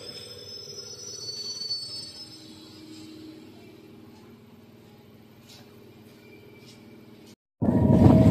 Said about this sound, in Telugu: సో ఇప్పుడు వస్తున్న ట్రైన్ చూశారు కదా, అది తాంబరం నుంచి వస్తుంది.